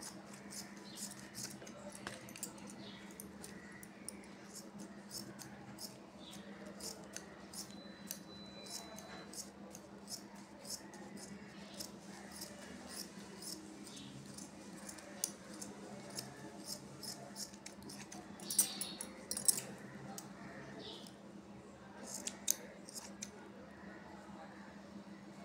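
Scissors snipping paper to cut out a border decoration, producing many quick, light, crisp clicks in an irregular steady run, faint and close over a low background hum.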